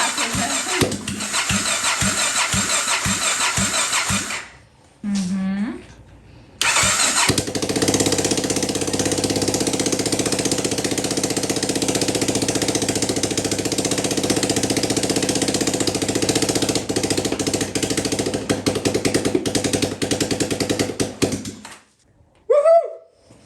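Rebuilt Honda NX650 Dominator motorcycle engine cranks over, then catches and runs loud and steady for a long stretch with a dense mechanical roar, stopping briefly once before restarting and finally cutting off.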